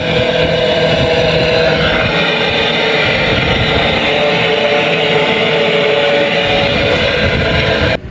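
An electric washing machine motor, fitted with a new capacitor after clutch trouble, runs with a steady, loud, continuous hum and whir that holds unchanged for about eight seconds before cutting off at the very end.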